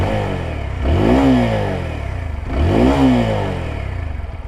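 A 2021 TVS Apache RTR 160 4V motorcycle in an enclosed space, revved twice in quick blips that rise and fall, with a bassy exhaust note loud and close between steady idle.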